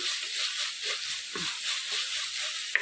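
Chopped tomatoes sautéing in a pan for a mushroom kurma, a steady soft sizzle and hiss with faint stirring scrapes, fairly quiet and continuous, one sharp clink near the end.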